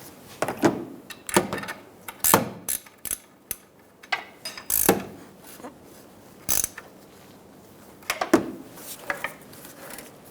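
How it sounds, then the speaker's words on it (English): Ratchet wrench snugging a nut onto an engine motor mount stud of a 2007-2011 Toyota Camry, giving repeated bursts of quick metallic clicks separated by short pauses, close and fairly clear with no talk. "Install the nut onto the stud, and we'll snug it down."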